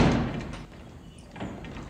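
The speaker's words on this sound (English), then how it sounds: "Raja, open the door, will ya?" A door thuds open in an audio drama, set in a time chamber on a dinosaur-hunting trip, with a heavy knock at the start followed by a fainter scraping rumble.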